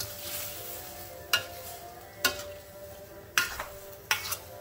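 Mushroom curry seasoned with fermented fish sauce, stirred in a pot with a gentle background simmer broken by four sharp utensil scrapes against the pan, close and fairly quiet.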